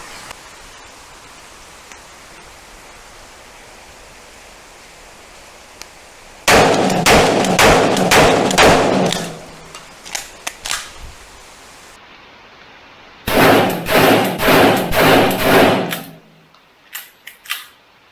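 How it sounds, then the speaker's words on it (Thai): Gunshots fired with and without a compensator during recoil testing at a shooting range: two loud bursts of rapid, sharp reports, several shots each, separated by a quieter gap with no talk. "ยิงโดย ไม่ใส่คอมนะครับ แล้วก็ใส่คอมนะครับดูว่าแรงรีคอย จะมีความแตกต่างกันอย่างไรนะครับ"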